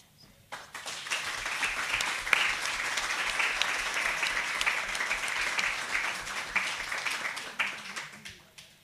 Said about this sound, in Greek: το χειροκρότημα που προηγήθηκε και μάλλον θα ακολουθήσει ανήκει στη Μαρία